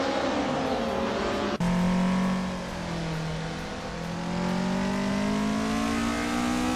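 A 1991 Renault Clio engine in a racing game revs steadily with a clear mid-pitched tone. It cuts out briefly, then climbs back through rising gears, loud and close with no talk.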